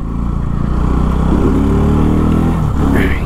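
A modified Bajaj NS200 motorcycle engine runs close by, a loud steady rumble that rises in pitch through a rev in the middle and then drops back, with no talking over it.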